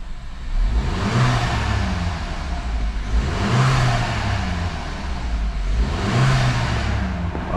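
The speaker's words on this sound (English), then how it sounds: "Let's give it a rev up and see if it revs over 2000." A VW Golf 7 with a DSG gearbox, just out of limp mode, has its engine revved past 2000 rpm from idle in three smooth rising-and-falling surges. The engine is loud and close, with no talk.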